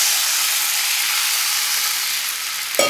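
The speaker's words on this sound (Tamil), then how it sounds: "1/2 லிட்டர் தண்ணி ஊற்றிக்கிறேங்க" Loud, steady hiss of half a litre of water sizzling in hot oil while making semiya upma, continuous throughout, with a brief clatter near the end.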